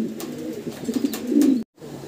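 A large flock of fancy pigeons on a rooftop flying zone at a farm coos steadily and fairly loud, with the sound cutting out briefly near the end before resuming.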